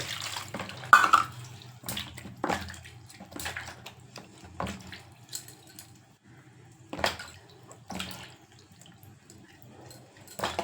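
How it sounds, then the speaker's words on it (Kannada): Hands scrubbed under a running kitchen tap after kneading chapati dough, with a steady low water flow and irregular splashes and rubbing bursts, close and moderately quiet, no talking. "ಈಗ ಕೈ ವಾಶ್ ಮಾಡ್ಕೊತೀನಿ"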